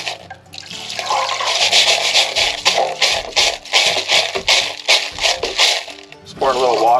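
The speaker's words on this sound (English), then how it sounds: "we're just using a colander separator to get rid of all the grit" Water splashes and pours through a colander while tumbled greenstones and grit rattle and shift inside, in uneven bursts, loud and close, with a short voice near the end.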